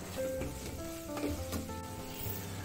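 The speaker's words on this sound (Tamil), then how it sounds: "இந்த எண்ணெயிலேயே நல்லா வதக்கி விடுங்க" Masala sautéing in oil in a pan for masala rice, a soft, steady sizzle with a few light stirring clinks, close and quiet, no talking.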